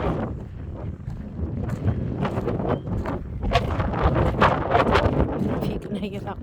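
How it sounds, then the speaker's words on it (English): Wind gusts roar across the microphone at an abandoned asylum site, a steady rushing buffet throughout with a voice talking over it. "If you can hear that wind."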